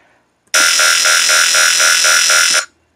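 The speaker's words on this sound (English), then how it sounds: "So you got some more harsh, heavy bass there." A loud, harsh dubstep synthesized bass tone blares for about two seconds with a pulsing, wobbling rhythm, then cuts off abruptly.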